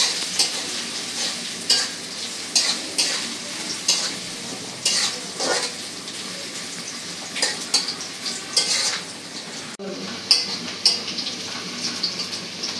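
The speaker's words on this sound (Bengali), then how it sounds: "পেঁয়াজটা একটু তেলের সাথে ভেজে নিই।" Onions and green chillies fry in oil in a village-style Bengali kitchen, giving a steady close sizzle broken by regular scraping and clinking stirs of a utensil against the pan, with no talking.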